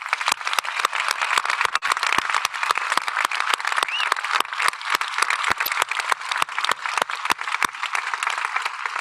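Sustained applause from a large audience at a high school graduation ceremony as graduates are recognized, a dense, even roar of many hands clapping with sharp individual claps standing out, loud and unbroken from start to finish.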